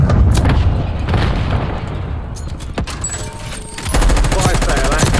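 In Call of Duty Warzone, a stun grenade goes off amid dense, loud game combat, with booming blasts and rapid gunfire filling the whole stretch, and in-game voice callouts mixed into the noise.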